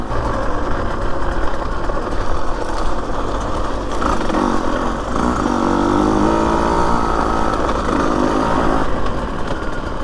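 A Husqvarna TE150 two-stroke dirt bike rides single track near Florence, Arizona in third gear, its engine buzzing loud and close with a steady raspy drone that rises and falls slightly with throttle.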